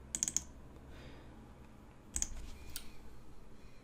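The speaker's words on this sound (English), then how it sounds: "we can just double click on this as well" A mouse double-clicks in a spreadsheet program at a computer, with several quick sharp clicks near the start and another pair about two seconds later, faint and close against a quiet room background.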